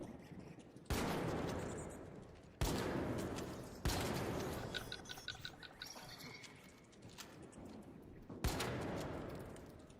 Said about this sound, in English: I'm shooting spiders, not you.